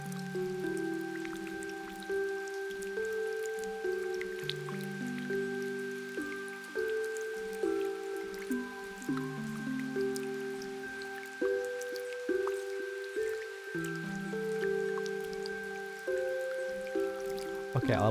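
Rain in Rain Town from the video game Omori, soft patter and drips layered under a steady looping musical tone, continuous and moderately quiet with no talk.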